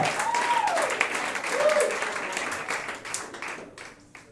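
A comedy club audience applauds the host, with moderately loud clapping and a couple of cheers that slowly thin out and fade toward the end.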